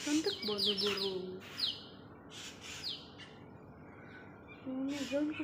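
A tame swiftlet chirping up close, with bright rising tweets in quick bursts and a few squawky calls. A person talks in between the calls.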